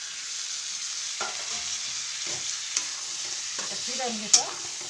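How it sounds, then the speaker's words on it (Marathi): Mutton sizzles steadily as it is dropped into a hot spice tempering, with a constant close frying hiss broken by a few stirring scrapes and soft clinks, no voices. "मटण आत्ताच आता हे डायरेक्ट आता या या फोडणीमध्ये आता मस्तपैकी टाकत आहे"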